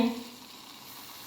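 A fasting paratha of water chestnut and amaranth flour with potato frying in a pan over low heat, a soft steady sizzle throughout this brief moment, close and alone.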